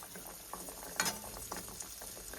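Anarsa frying in oil over a very low gas flame, a soft steady bubbling with small crackles and one brief louder pop, fairly quiet and close with no talk.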